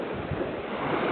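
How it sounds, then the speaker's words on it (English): Steady roar of high surf washing close by at Varadero beach, Cuba, a dense wash of water noise with no voices. "The ocean right now is very high."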